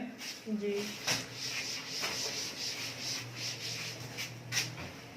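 Writing being erased from a board in a maths classroom, several quick rubbing strokes in a row at close range, with low talk running faintly underneath.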